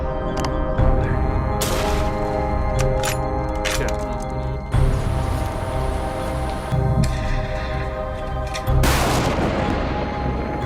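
Rifle shots ring out during a wolf hunt on Canadian farmland, a few sharp loud cracks spread over the stretch with continuous rumbling noise underneath.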